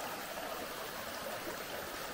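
Steady broadband rush of river water pouring at a dam on the Zeta river in Montenegro, a continuous close wash with no voices.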